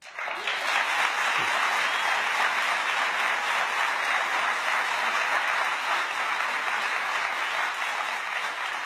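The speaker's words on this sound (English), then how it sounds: "I can't get used to the clapping." Sustained applause from a crowd, loud and even throughout, with no talking.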